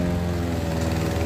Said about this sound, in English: As you can probably hear there in the background, the lawnmower's struggling a wee bit